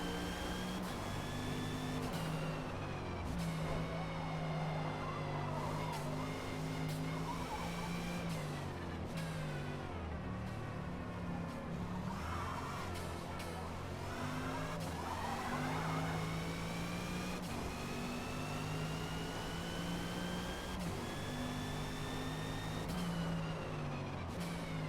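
A 2021 Audi RS 6 Avant races around Mid-Ohio in Forza Motorsport, its engine droning loud and steady for the whole stretch, revs rising and falling through gear changes with occasional tire scrub.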